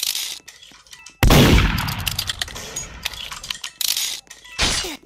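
Gunfire in the Roblox game Murder Mystery 2: a loud sharp shot with a crashing burst, then a few further clanging impacts and bright hits over about five seconds, close and punchy.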